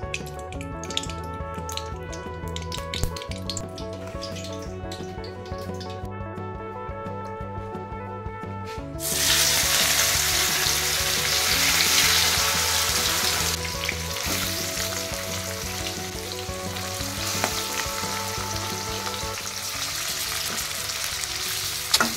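Fish fries in a pan with a loud, continuous close sizzle that swells sharply partway through and stays dense, with light clinks and spatter over it and no talking.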